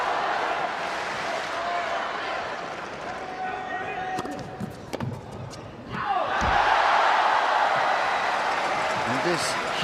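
A large tennis crowd at the 2005 Masters Cup men's singles final, mostly Federer fans plus a small band of Argentine supporters, roars and applauds in a sustained wash, with a commentator talking over it.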